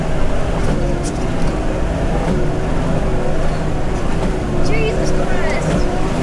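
A Nissan GQ Patrol engine labours up a steep off-road hill while towing a caravan, a loud continuous rumble of revving with shouting voices over it.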